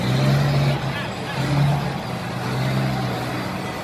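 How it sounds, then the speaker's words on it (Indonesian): A toy mining truck engine sound effect: a low, rumbling motor drone with a few humming swells, steady and moderately loud, with faint voice-like murmuring in the background. "Wow, lihat. Ada mobil truk tambang."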